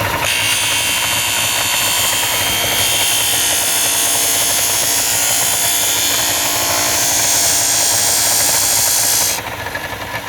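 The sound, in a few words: disc sander sanding wood stock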